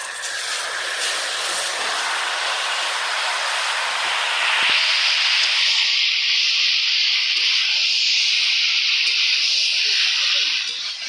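Elephant apple pieces hit hot oil already seasoned with dry red chili and panch phoron. A steady, close hiss jumps louder partway through and keeps sizzling strongly.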